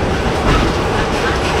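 A train rolls along the rails with a dense, steady rumble and rattle, loud and close, as heard from inside a carriage.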